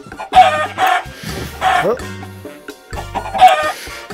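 Chickens cluck in a burst of short, throaty calls repeated several times, loud and close, with a voice speaking between the calls.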